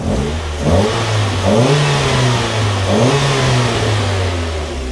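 A Mazda MX-5 NA engine with its stock intake revs up repeatedly in strong bursts, the pitch climbing and then settling back to a steady drone between rises. It is loud and close, with no talking.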